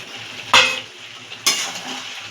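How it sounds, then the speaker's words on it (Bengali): Tomatoes tossed into frying stomach and liver set off two sharp, loud sizzling bursts about a second apart, each fading into a steady hiss of hot oil with stirring. "তুলে একটু নাড়া দিয়ে আমি টমেটোটা দিয়ে দিলাম।"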